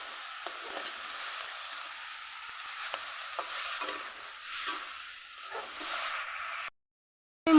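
Chal kumro shaak greens with turmeric and salt are stirred in a pan, giving a soft steady sizzle with light stirring taps, fairly quiet and close, ending in a sudden cutoff.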